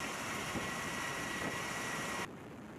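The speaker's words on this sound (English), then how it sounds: "those were Osprey military helicopters rehearsing a flyover over the stadium in New Orleans" Military Osprey tiltrotor aircraft fly over a stadium in New Orleans: a steady, broad mechanical roar of heavy rotors and engines, loud and continuous, cutting off abruptly near the end to a quieter hum.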